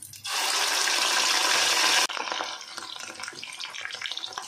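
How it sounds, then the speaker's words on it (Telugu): Bitter gourd pieces drop into hot oil in a pan for deep-frying, setting off a loud, close hissing rush that cuts off sharply and gives way to a softer, steady crackling sizzle. "ఇప్పుడు బాండీ పెట్టుకొని ఆయిల్ వేసుకొని వీటిని డీప్ ఫ్రై చేసుకుందాం"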